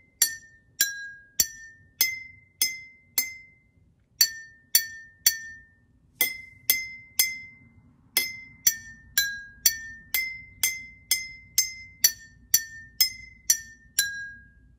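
Water-filled glass cups struck one at a time to play Mary Had a Little Lamb, a quiet sequence of about two dozen bright, ringing clinks at three pitches in a steady melodic rhythm.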